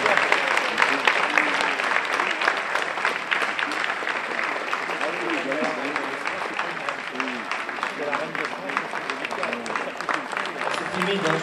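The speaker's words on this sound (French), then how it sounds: "On peut les applaudir, je pense." Sustained audience applause at a sand-queens beauty gala as sashes are handed out, a dense, steady wash of clapping with voices and crowd murmur mixed underneath throughout.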